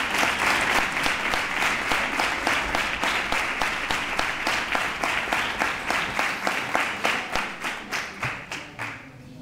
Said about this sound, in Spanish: Un aplauso para ellos, lo quiero recalcar.